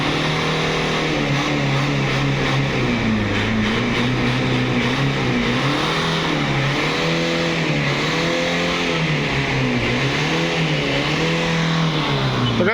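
A car engine runs steadily as the vehicle drives up, its pitch rising and falling in smooth waves as the driver revs, loud and close throughout with no talk.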